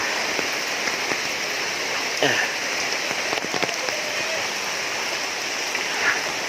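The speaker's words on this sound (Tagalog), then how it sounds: "Grabing ulan, mga katuwang." Heavy rain pours steadily in a broad, constant hiss close by, with a few brief knocks and drips rising above it and no talk.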